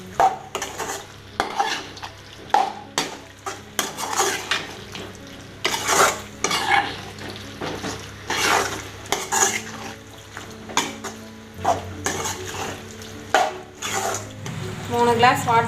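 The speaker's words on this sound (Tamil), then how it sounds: "இது நல்லா கலக்கி விட்டுங்க." Chicken curry stirred in a metal pot, with a spoon scraping and clattering against the sides in quick, irregular strokes and a light sizzle underneath, close and fairly loud throughout.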